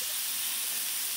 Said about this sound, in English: Let's add a little bit of steam.